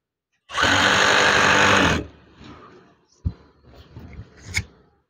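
A sewing machine stitches a wide curtain, 190 by 230 centimetres, in one loud, close burst of about one and a half seconds, followed by soft handling noises, light clicks and fabric rustling.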